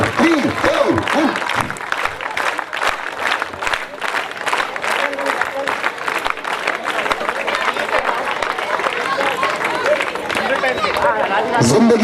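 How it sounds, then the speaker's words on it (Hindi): A crowd at a 2014 GPL cricket final at DSC Ground gives loud, sustained clapping for a team's award, with a voice speaking over the applause throughout. "पूरी टीम जोरदार तालियों के साथ"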